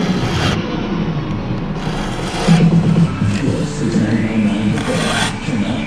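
An Echo CS590 chainsaw fitted with a ripping chain mills cedar, giving a continuous loud rasping cut with steady engine drone and slight shifts in pitch as the bar works through the wood.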